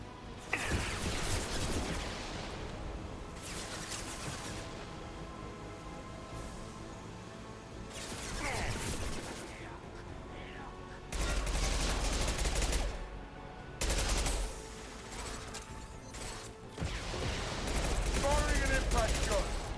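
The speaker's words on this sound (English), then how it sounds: "Firing concussive shot" Concussive shot weapon fire in the Mass Effect 2 video game, several bursts of loud blasts and shooting spread across a battle, with a voice talking between them.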